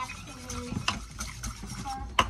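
Hot process soap batter stirred by hand with a spoon in a pot, giving a thick, wet scraping and sloshing with a few sharper clinks against the sides, close and steady.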